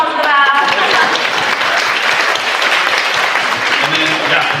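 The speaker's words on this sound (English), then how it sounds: "Let's give him a round of applause for that." At an International Women's Day event, a women's circle audience breaks into loud, close applause for several seconds. A voice can be heard under the clapping.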